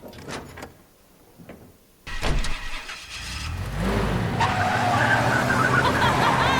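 A car in the video game Life is Strange starts up with a loud engine burst, then revs and pulls away with rising, sustained engine noise. Quieter muffled sounds come just before the start.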